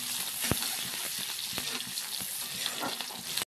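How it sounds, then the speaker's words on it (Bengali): Onion, cardamom and cinnamon fry in hot oil, giving a steady close sizzle with the sharp clack of a spoon stirring the pan several times, and no talking. "দিয়ে দেবো একটু এলাচ আর দারচিনি ফোড়ন, আর সামান্য পেঁয়াজ কুচি"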